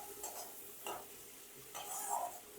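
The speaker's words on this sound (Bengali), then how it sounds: "তো এবার দিয়ে ভালো করে আমি মশলাটাকে কষিয়ে নেব" Spice paste with green chilli paste being fried and stirred in a pot for winter-vegetable khichuri, heard as quiet soft sizzling with a few distinct scraping stir strokes, faint and close.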